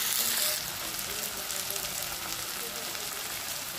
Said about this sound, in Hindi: प्याज कर दो टमाटर मसला पक रहा है धीरे धीरे